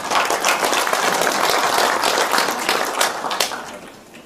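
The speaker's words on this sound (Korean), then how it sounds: "다 같이 박수 좀 환영해 주시죠." An indoor audience at a Korean forum on North Korea claps together to welcome a speaker, a dense burst of many hands at close range that holds steady and then thins and fades toward the end.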